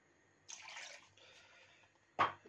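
Half a glass of water poured into a soup pot with mussels, a soft brief splash and trickle followed by a short sharper gush at the end, quiet and close.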